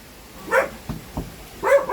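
Puppy barking close by in a small home garden, two high yips, a couple of short lower woofs in between, then another quick pair of yaps, with no talking.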